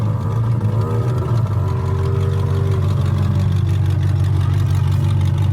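A Hemi-engined tuff truck revving in neutral, its loud, close engine droning steadily with a deep rumble while the pitch swells and eases between revs, with no voices over it.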